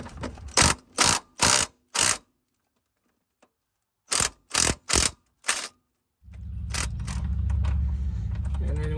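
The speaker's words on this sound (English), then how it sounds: "taking the top 3 out, so we just get this 18mm bolt off the upper ball joint" A ratchet works an 18mm upper ball joint bolt loose on a car's suspension, in two bursts of four sharp, close clicking strokes separated by silence. After these bursts, a rougher mechanical grinding and rattle carries on to the end.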